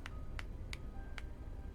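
A hand clap in the Girls Frontline 2 video game, heard as a few sharp, bright claps spaced apart over a steady low background hum.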